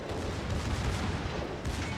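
Warship guns in the World of Warships game, the cruiser Mainz firing in heavy booming volleys that roll continuously over two seconds, loud and close with no talking.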